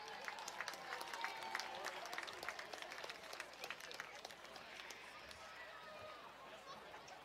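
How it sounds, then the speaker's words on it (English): A crowd applauds at a high school varsity football game during a homecoming court ceremony, steady distant clapping with scattered cheers, while a voice speaks over it. "One more round of applause."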